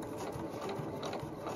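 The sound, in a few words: sewing machine stitching side seams of a small fur tote bag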